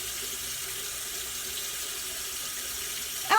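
A tap runs steadily while a paintbrush is rinsed under it, a continuous even hiss of water close by, with a brief louder splash right at the end and no talking.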